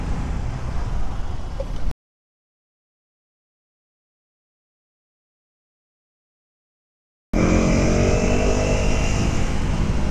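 A Husqvarna Vitpilen 250 motorcycle engine revving hard toward its redline of about 7000 RPM, a loud steady whine heard in two stretches broken by a long silent gap.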